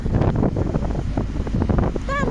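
Wind buffets the microphone continuously over rough sea waves heard from a boat, a dense steady roar with surf churning throughout.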